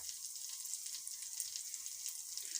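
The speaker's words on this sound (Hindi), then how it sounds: "अब हमने इसको कर लिया फ्राई दड़ा मिर्च को" Crushed chili frying in a pan for chana chaat, a steady, soft, hissing sizzle throughout, close by with no talk.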